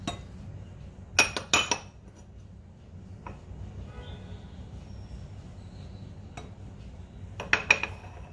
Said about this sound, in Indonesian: Campur semua bahan biang ke dalam air.